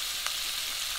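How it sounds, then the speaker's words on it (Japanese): Thinly sliced onions and a bay leaf sizzling gently in a pot after browning beef cheeks, a close, steady frying hiss with one small crackle. "そこに先ほどエマンセにした玉ねぎとローリエを入れて軽く塩をしてゆっくりと火を入れていきます"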